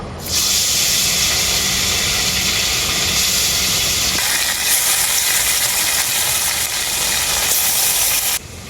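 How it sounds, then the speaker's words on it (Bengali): Marinated khoira fish fry in very hot mustard oil in a kadai, a loud, bright, continuous hiss and roar that holds steady for several seconds before dropping off abruptly, close and uninterrupted by voices. "তেলটা খুব ভালোভাবে গরম হয়ে গেছে এখন মাছগুলো ভেজে নেব"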